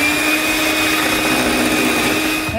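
An electric mixer whisks chocolate frosting for a double chocolate cake, giving a loud, steady motor whir that holds an even pitch close by throughout, with no talking.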